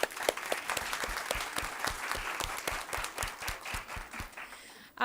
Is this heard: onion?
no